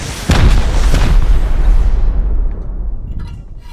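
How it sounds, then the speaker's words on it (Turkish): A rocket blast in the survival game Rust, one loud close boom followed by a long rumbling roar that slowly fades out, with no talking during it. "Bak roketi attım. Ha şimdi vurdu."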